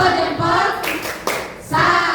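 A short burst of rhythmic group clapping, a 'tepuk salut' salute clap for Ken, loud and close in a classroom-style setting, with brief pauses between patterns.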